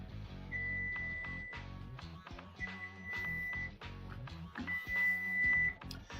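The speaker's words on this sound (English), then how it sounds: "That's our bread timer." A kitchen bread timer beeps in three sustained electronic tones spaced a second or two apart while Thanksgiving dinner is cooked, set against clattering and busy background noise.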